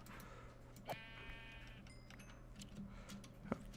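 Sheep bleat in the Minecraft video game, two short, faint bleats about two and a half seconds apart over a quiet, steady background.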